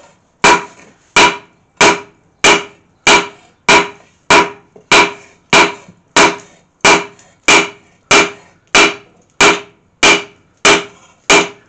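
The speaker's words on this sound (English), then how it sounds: "Now we're going to forge the edge on it," Hammer forging the bevelled edge of a bill hook on an anvil: about eighteen sharp, ringing metallic blows struck at a steady, even rhythm, close and loud, each decaying quickly before the next.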